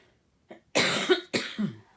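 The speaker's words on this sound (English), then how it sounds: "I'm going to cough, I'm sorry." Two sharp, close coughs from one person, separated by a short pause, with a quieter catch of breath just before them.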